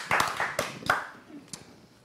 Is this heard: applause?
yes